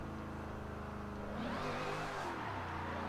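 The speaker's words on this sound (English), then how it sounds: "bring the revs up and drop the clutch, and it will just spit that rear end sideways" A car engine revs for a clutch-kick drift on a corner, its hum climbing sharply partway through the short clip. The sound is faint and distant under steady background noise.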